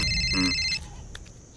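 A telephone ringtone chirps in a quick electronic trill for just under a second, then stops, leaving a faint background bed.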